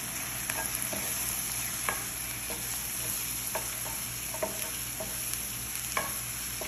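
Rice and spices (turmeric, chili powder, sugar, salt) being stirred in a frying pan for a Filipino-style meat kabsa, with soft scraping stir strokes at irregular intervals over a steady low sizzle.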